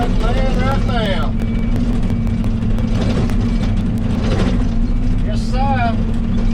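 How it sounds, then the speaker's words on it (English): A heavy dump truck arrives at a gravel driveway job, its loud steady engine drone rumbling throughout while someone talks over it. "There comes my dump truck, man, right now."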